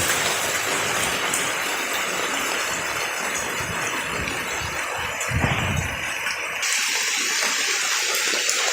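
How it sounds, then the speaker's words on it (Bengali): Heavy rain pours at night over a graveyard, a loud, steady broadband hiss of falling water with spattering that swells briefly midway, no voices heard. "এই যে দেখেন বৃষ্টির শব্দ শুনতে পাচ্ছেন"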